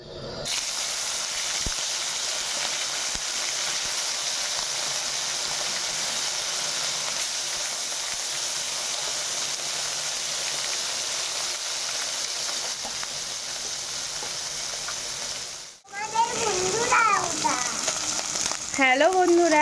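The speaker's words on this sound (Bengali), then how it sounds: "চুনো মাছটা একটু ভেজে নেবো" Small chuno fish frying in oil in a kadai, a steady loud hiss and sizzle for about fifteen seconds, then a brief drop and some clattering as a voice speaks near the end.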